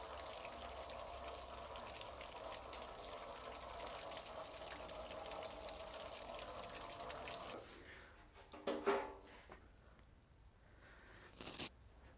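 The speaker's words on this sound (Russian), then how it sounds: "Будем поливать, чтобы вода там набиралась." Water poured into plastic tubs holding grain for sprouting malt, a steady splashing rush for several seconds that stops abruptly, followed by a few sparse drips and handling knocks.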